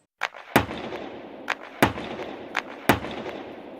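Sharp gunshots fired into the air by police to control a crowd, three loud distinct cracks spaced about a second apart over a continuous murmuring background.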